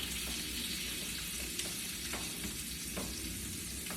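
Steak fries in butter in a pan for a steak and pepperoni pizza, giving a soft, continuous sizzle close by with a few faint pops and no voices.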